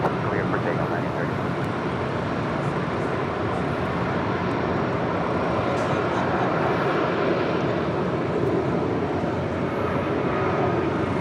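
An airliner taking off from runway 25 right at LAX, a broad steady jet roar that holds at an even loudness throughout, with a voice talking over it.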